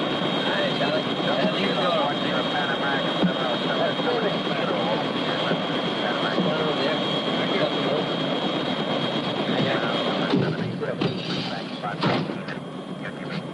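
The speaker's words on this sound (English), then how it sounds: "isn't that your helicopter over there?" Aircraft engine roar close overhead at an official event, a steady loud rushing drone that holds for the whole stretch and breaks into sharper bursts near the end.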